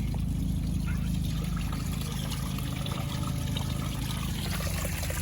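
Water drains out of an Intex Ultra Frame above-ground pool during winterizing, a steady close gushing trickle that holds evenly throughout.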